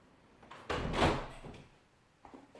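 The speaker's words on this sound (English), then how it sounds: "Sorry, just have to close the door there." A door in a classroom slides and bumps shut with a single muffled thud and a faint latch click, fairly quiet in a still room.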